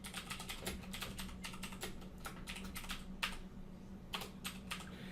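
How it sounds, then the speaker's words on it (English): Steady rapid typing on a computer keyboard while entering a Java program on a Linux server, close crisp key clicks in uneven bursts with a brief pause midway, no talking. "we can just go ahead and type in our Java program"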